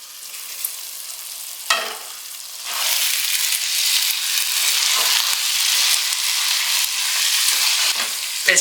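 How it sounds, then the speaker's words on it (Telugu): Vegetables cooking in biryani gravy in a covered pot, a loud steady hiss and bubbling sizzle that swells after a couple of seconds and holds, with a few soft knocks. "ఇలా మొత్తం మిక్స్ చేసేసుకొని మూత పెట్టేసి ఇవి కొంచెంసేపు ఉడకనిద్దామండి"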